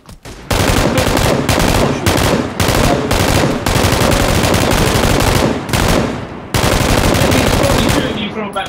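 Rapid bursts of automatic gunfire in PUBG, loud and close, cut into repeated short volleys separated by brief breaks.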